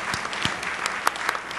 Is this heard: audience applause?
yes